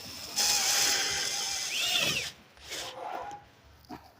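A ratchet tool tightens a nut on a washing machine under repair, giving short bursts of clicking and a brief whirring spin, close and fairly loud, with pauses between turns.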